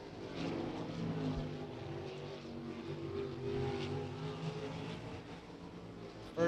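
A race car on a qualifying lap at Beckley Motor Speedway during the Cowboy Classic, its engine droning steadily at a distance with a broad continuous roar and no talk.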